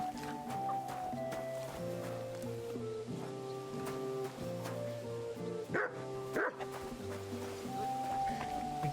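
A dog in Kingdom Come: Deliverance II gives a few short barks and yips, nearby and moderately loud, over continuous game music.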